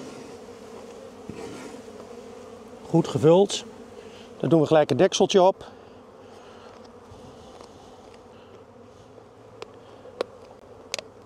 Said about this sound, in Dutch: Die scheppen we vol met bijen.